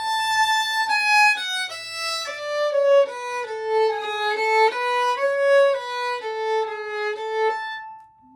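Rose Acre melody played plainly without ornaments on a single melodic wind instrument, a steady line of clear sustained notes stepping up and down, close and moderately loud, no talking.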